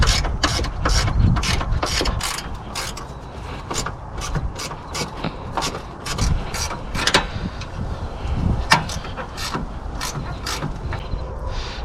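A ratchet fitted with a 10 mm socket clicks in quick bursts while loosening bolts on a 2007-2011 Toyota Camry 2.4L during radiator and thermostat work, close and loud with short pauses between runs and no talking.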